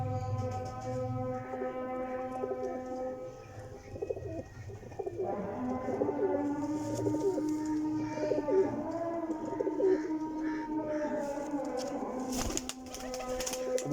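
Pigeons cooing steadily in a loft of pricey breeding birds in Jhelum, several overlapping low throaty coos repeating throughout, with a brief burst of wing flapping near the end.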